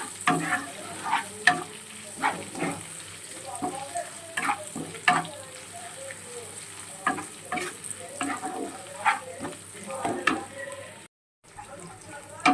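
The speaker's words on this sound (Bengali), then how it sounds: "দেখো আমার এই মশলাটা পুরো কষানো হয়ে গিয়েছে" Spiced masala for a vegetable tadka dal sizzles and fries in a pan, with repeated scraping stir strokes at a steady rhythm, close and moderately loud, and no talk over it.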